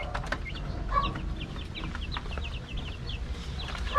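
Chicks peep with rapid high chirps throughout, mixed with softer clucking from poultry nearby; close, busy and continuous, no voices.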